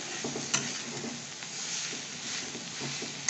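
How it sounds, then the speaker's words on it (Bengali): Boiled jackfruit with turmeric powder being sautéed in a pan, a steady sizzle broken by the scrape and clatter of stirring, with a couple of sharper knocks against the pan. "এবার এটাকে ভালো করে কষাতে হবে"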